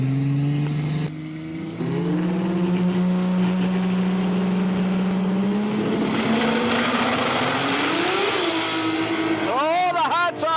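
Barra-powered drag racing utility and panel van launching down a street strip, engines holding a sustained high roar that climbs as they accelerate away, with a commentator talking loudly over the run.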